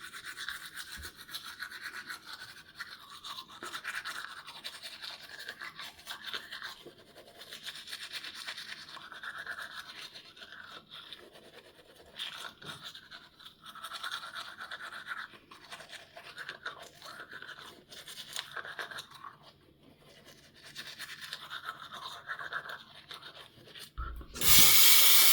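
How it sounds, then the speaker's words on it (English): A charcoal toothbrush scrubs teeth in steady, close, rhythmic back-and-forth strokes through a night routine, with short pauses between bursts and no talking. "It's a charcoal toothbrush."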